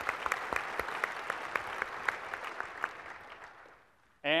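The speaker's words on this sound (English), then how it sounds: "round of applause" Audience at a tech conference keynote breaks into applause, dense clapping with distinct sharp claps that gradually thins and fades out before a sudden loud sound cuts in at the very end.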